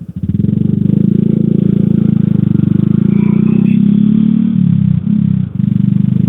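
Honda Supra X 125R motorcycle in HRC livery idles close by with a steady low engine drone and a buzzing vibration rattle running throughout, dipping briefly near the end.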